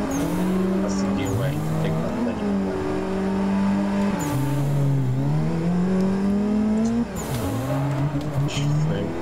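A Nissan S15 drifting in the Assetto Corsa racing game, with a loud, sustained engine note that rises and falls in pitch and continuous tire squeal, while people talk over it.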